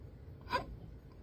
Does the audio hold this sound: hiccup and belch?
yes